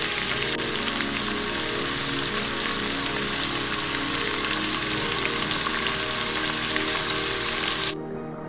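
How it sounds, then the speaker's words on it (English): Coconut milk goes into a pot of curry shrimp and bubbles with a dense, rain-like crackling sizzle that stays loud and steady, then drops off sharply near the end. "now I'm going to add the coconut milk"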